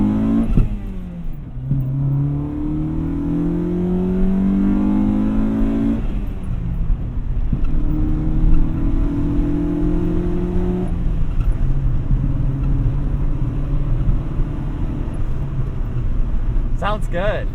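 A 2003 Honda Civic Si (EP3) fitted with a cold air intake revs close by, its engine note rising and falling through several pulls while people talk over it.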